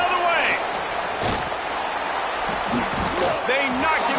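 A hard tackle hit in the College Football 26 video game after a fumble return, a brief thump rising out of steady crowd roar and game commentary, with voices talking throughout.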